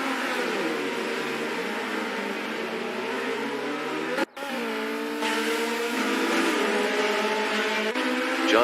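A pack of race cars accelerates together off the line at the start of a virtual racing video game. Engines drone continuously and loudly with rising revs and pitch, broken by a sharp gear-change dip, and no voices come through.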